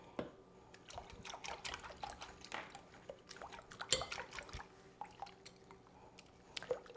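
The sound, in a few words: mixing ground red pepper into broccoli cheese soup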